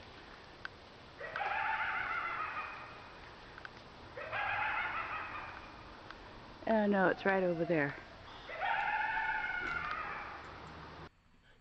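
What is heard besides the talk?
bird call heard in forest, rooster-like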